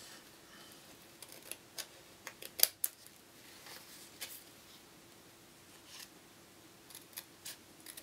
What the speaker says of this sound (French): je vais couper donc ce qui dépasse.